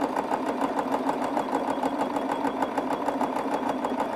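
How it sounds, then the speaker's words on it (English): Sewing machine running steadily while stitching a buttonhole along a chalk line, a close, continuous rapid needle chatter with an even mechanical rhythm and no talk. "Start sewing and sew the length of the chalk line."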